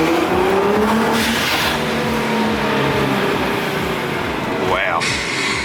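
Nissan R35 GTR fitted with a blow off valve, accelerating hard on a drive: a loud, continuous engine roar with rising pitch and a sharp whooshing release near the end, with people talking and exclaiming over it.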